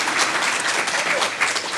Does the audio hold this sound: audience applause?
yes